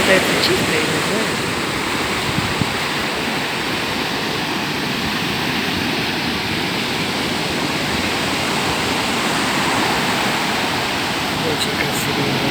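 Sea waves break where a river flows into the sea, a loud continuous rushing roar of surf filling the whole stretch without pause.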